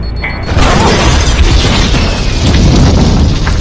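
A bomb blast in an action film erupts as a loud, sustained boom and rumble that fills the whole clip after a short lead-in, with no speech.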